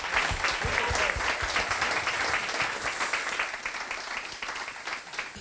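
A crowd of guests gives a warm, steady round of applause at a folk music show held in Tonis Kuhstall, dense clapping at close range that slowly tapers off.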